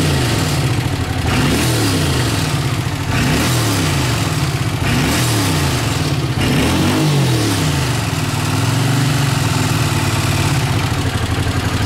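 A Honda CX500 motorcycle engine runs close by and loud, revving up and down in repeated surges over a steady rumbling idle, now pulling smoothly after earlier cutting out under throttle.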